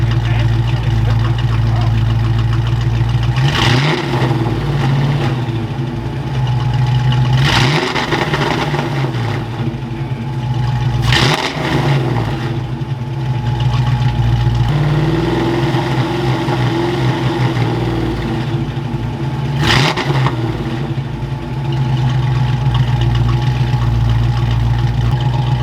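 Foxbody Mustang V8 idling steadily with a deep low rumble, blipped into four sharp revs after its ignition timing was reset, each rev rising and falling quickly before settling back to idle; close and loud.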